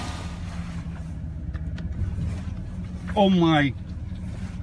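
A car idles with a low engine rumble while a noisy power steering pump whines as the wheels are cranked, rising to a brief, loud, wavering whine near the end; a person speaks briefly.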